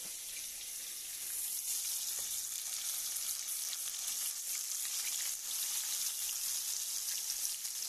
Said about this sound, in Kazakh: мына осындай табада менде балық қуырылып жатыр.